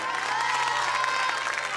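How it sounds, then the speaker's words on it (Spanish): Dense, steady applause from a television talent-show audience, filling the whole short stretch at an even level with a faint sustained tone beneath. "un buen aplauso"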